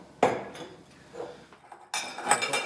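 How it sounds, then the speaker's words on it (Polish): Ice cubes clatter into a glass in two bursts of sharp clinks, close and bright, with a quieter rattle between them. "również wrzucamy kilka kostek lodu"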